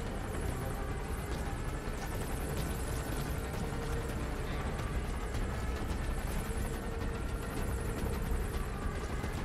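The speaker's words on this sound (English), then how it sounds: "Here we can lay in another chopper." Support helicopter arriving in the Metal Gear Solid V video game: a steady, dense rotor and engine roar that stays loud and unbroken from start to finish, with no voices over it.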